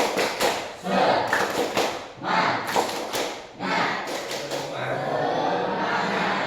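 Students in a physical education class in Jambi clap a rhythmic 'tepuk semangat' pattern, sharp grouped bursts of claps with short pauses between, ending in a longer run of continuous clapping nearby.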